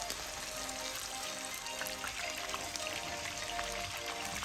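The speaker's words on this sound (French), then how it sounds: "Mettre une généreuse quantité d'huile et frire à feu moyen pour éviter de la cramer." Salt cod frying in a generous amount of oil over medium heat, with a dense, steady bubbling crackle that stays even throughout.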